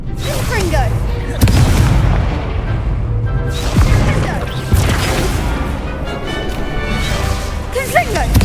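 The Confringo blasting spell detonates in a fantasy video game, several sharp, loud crashing blasts landing a second or two apart over a rumbling game soundscape, with a voice speaking.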